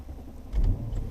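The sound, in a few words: Brabus B11 W220 S500 5.0 V8 engine cold start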